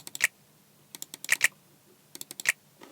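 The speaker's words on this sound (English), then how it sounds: "So we can have a snap here." Finger-snap samples in a drill beat built in BandLab, sharp crisp clicks in small clusters of two and three, repeating in a loose pattern with no voices.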